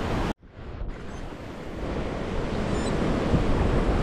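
Ocean surf breaking at Uluwatu, Bali, a steady broadband roar of waves close by after a brief dropout at the start, with wind noise on the microphone and no talk.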